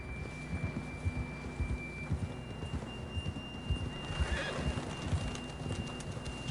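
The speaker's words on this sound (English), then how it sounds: "John was riding that horse when we left Blackwater." A horse neighs in Red Dead Redemption 2 amid rhythmic hoof clops and a low rumbling background, with a steady high tone running through.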